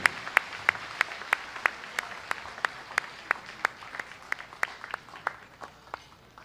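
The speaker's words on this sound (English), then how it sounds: "Brother knights and sisters, let us give a round of applause to Brother Alfredo G. Lallana" A small crowd gives a steady round of applause at an awards ceremony, with sharp, evenly spaced claps standing out over a softer, quieter bed of hands.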